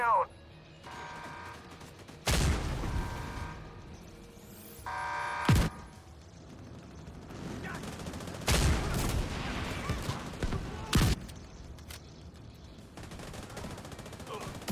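In a raid against the boss Morozova, sharp gunshots and heavy mortar-like blasts strike at irregular intervals over a rumbling battle background, with a person talking through the action.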